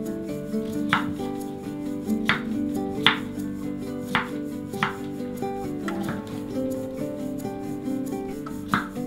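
A knife chops through butternut squash in a steady rhythm of about a dozen crisp strikes, each a sharp thud on the board, with soft music underneath.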